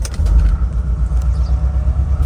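A 2011 GMC Yukon Denali Hybrid engine idles with a deep, steady rumble and a slightly uneven, puffing exhaust note from an exhaust leak, close by and fairly loud.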